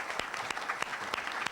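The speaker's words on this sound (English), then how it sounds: "Round of applause," Sparse, distinct claps from the audience at a Democratic debate for attorney general, a handful of separate hand strikes spaced evenly over a low room murmur.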